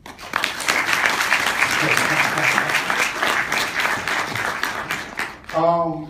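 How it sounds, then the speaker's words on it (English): Audience at a Model UN event applauding a professor, a dense, loud burst of clapping that fills most of the stretch before a voice briefly speaks at the end. "please give Professor Scott a round of applause"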